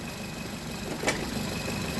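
A Nissan Cube fresh from auction idles while warming up, giving a steady, even, low engine hum throughout with one brief click partway through.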